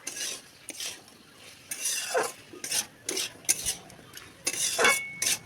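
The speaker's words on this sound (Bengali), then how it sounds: "ভালো করে নেড়েচেড়ে ঢাকনা দিয়ে দেব।" A spoon stirs soaked chickpeas and chopped tomato in a metal pan, giving a series of scraping, clinking strokes in an uneven rhythm with brief pauses and a faint sizzle between them.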